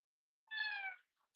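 A single cat meow, clear and fairly close, lasting about half a second with a rising then falling tone, alone against silence with no talking.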